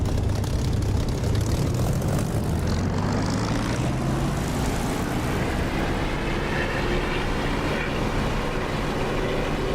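A propeller aircraft engine in the DCS flight simulator throttles up for takeoff, a loud, continuous droning roar with rising engine tones that fills the whole stretch.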